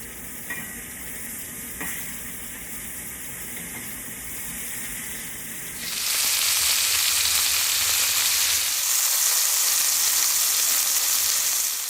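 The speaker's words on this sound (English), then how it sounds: "I'm just trying to give them a good sear, a nice browning on each side" Garlic-seasoned beef short ribs sear in a hot pan with a continuous crackling sizzle that jumps noticeably louder and denser about halfway through, with no talking.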